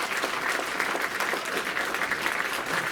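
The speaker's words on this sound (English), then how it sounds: "So if we could give them a big applause for all of them." An audience at an arts hall of fame induction ceremony applauds steadily for three seconds, a dense, even patter of clapping from a hall full of people with no voices rising above it.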